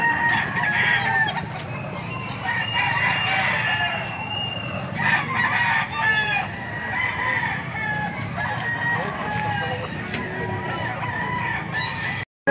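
Several roosters at a fowl market crow one after another, with steady clucking beneath. One of the birds is a yellow-legged gamefowl. The crowing is close and busy, with faint people noise in the background.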